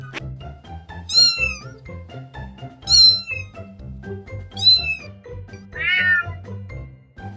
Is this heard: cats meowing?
yes